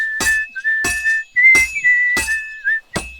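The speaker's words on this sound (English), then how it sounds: "Now take the hammer and try hitting it a few times." Hammer strikes on a sword on a blacksmith's anvil in Kingdom Come Deliverance 2, five loud evenly spaced metallic clangs, each leaving a sustained high ringing tone between blows.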